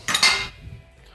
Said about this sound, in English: we're gonna get a rubber spatula and we're just gonna remove the cookie dough from the paddle.